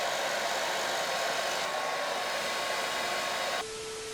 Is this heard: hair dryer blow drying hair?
yes